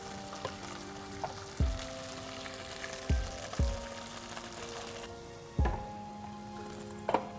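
Tomatoes go into a hot oiled pan over high heat, giving a steady soft sizzle broken by several sharp clanks and knocks of utensils against the pan.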